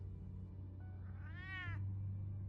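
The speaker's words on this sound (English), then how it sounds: "Oh, it's a cute cat." A single clear cat meow rises and falls over a steady low hum, close and fairly loud, lasting under a second.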